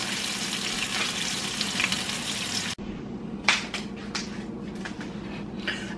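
Chicken fried steak frying in a pan of hot oil crackles with a loud, dense, steady sizzle, then the sound drops abruptly to a quieter spitting fry with scattered pops and crackles.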